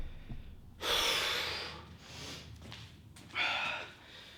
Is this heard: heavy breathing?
yes